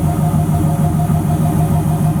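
A car engine idling through an aftermarket exhaust that replaced louder Flowmasters, a steady, deep, close burble with an even pulsing rhythm and no talk.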